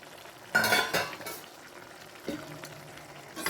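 Ground masala of fennel, cumin and pepper being stirred into chicken gravy in a pan. A spoon scrapes in a few short bursts over a soft, steady sizzle, with brief clatters and no voices.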